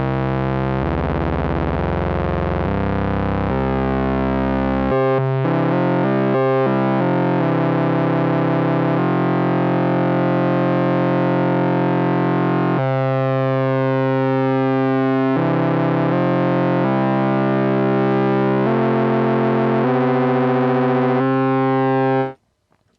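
A loud, buzzy analog Moog synthesizer holds thick distorted tones that step up a major scale in long sustained notes, with no voices, then cuts off abruptly.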